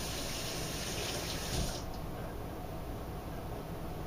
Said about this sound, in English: I'm going to rinse my hands real quick